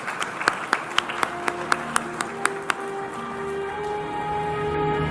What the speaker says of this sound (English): wish him well with our applause and warm wishes